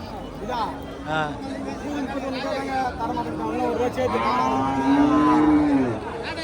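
Cattle at a cow market in Thiyagadurgam, Kallakurichi, with cows lowing in long, drawn-out moos over a busy crowd of people chattering nearby.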